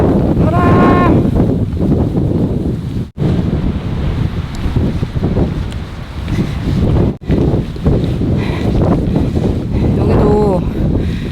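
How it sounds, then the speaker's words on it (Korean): Strong gusty wind buffets the microphone on a mountain ridge on Saryangdo island, a loud continuous roar with brief dropouts while people talk over it. "바람!"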